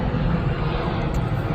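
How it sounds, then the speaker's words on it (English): An airplane passes overhead, a broad, steady roar of engine noise filling the whole short stretch at moderate loudness. "Sorry about the plane going over."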